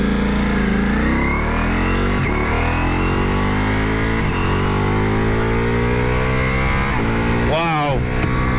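A 2021 Ducati Multistrada V4S motorcycle in Sport Evo mode accelerates hard toward twisty roads, its engine note climbing steadily in pitch through several gear pulls, loud and close with steady wind rush.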